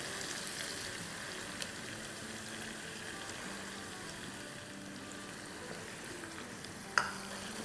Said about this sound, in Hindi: तो अब इसमें हम डालेंगे टमाटोज़। तो ये मेरा टमाटो प्यूरी है 4 टेबलस्पून।